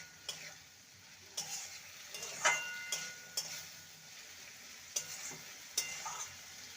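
Bitter gourd being stir-fried with a wet poppy seed paste in a pan, giving a faint steady sizzle broken by a handful of scattered spatula scrapes and light ticks, with no voices.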